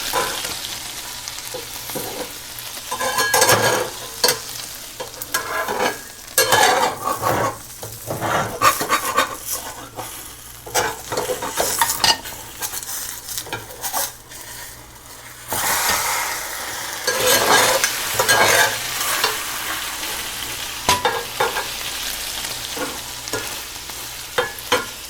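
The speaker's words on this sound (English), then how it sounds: "Now the egg is ready to flip." Onion and egg pan-frying with a steady sizzle, broken by a few louder scraping and clattering bursts as the egg is flipped and turned in the pan, close and fairly loud, with no talking.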